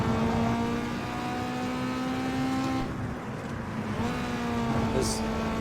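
A car engine in Need for Speed Underground 2 holds high revs, then drops and climbs again near the fourth second, a loud whining drone with stacked harmonic tones and a faint tyre hiss beneath.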